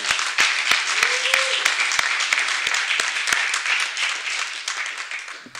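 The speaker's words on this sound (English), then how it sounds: "Another round of applause, please." An audience applauds at a county commissioners' honoree event, many hands clapping steadily with a few sharp individual claps standing out, fading slightly toward the end.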